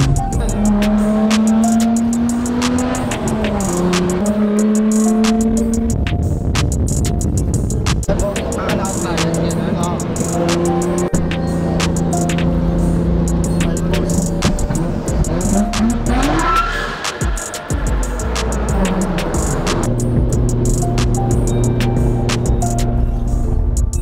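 A car drives along a curvy road in Shizuoka, Japan, its loud, close engine droning continuously and rising and falling in pitch as it accelerates and eases off through the bends.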